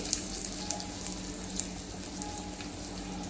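Prawn-stuffed alu vadi, rolled colocasia leaves, frying in hot oil in a pan: a steady, close sizzle with scattered crackles and pops throughout.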